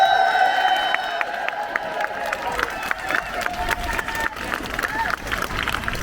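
Crowd at a puberty blockers protest cheering and clapping for the organiser, Venice Allen, a steady burst of claps and shouts with a voice and whistle-like tones over it.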